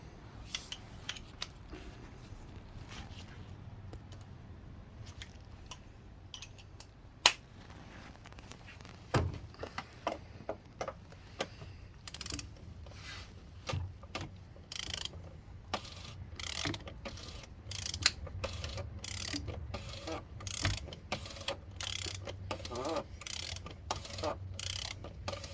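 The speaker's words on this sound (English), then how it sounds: "we've got the torque wrench set to 35 Newton meters as per instructions on the oil filter housing, and then we will nip it up tight" A torque wrench tightening the oil filter housing on a Hyundai ix35, with soft repeated ratchet clicks that start sparse and grow into a quicker, sharper run of clicks near the end.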